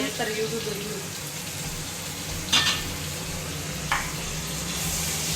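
Onions frying in a pan with cumin and mustard seeds, a steady close sizzle with a couple of brief scraping stirs, with a voice talking faintly at times.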